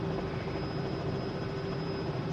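Helicopter engine and rotor in a flight simulator game, a steady, continuous droning whine with a constant pitch, loud and close and alone without talk.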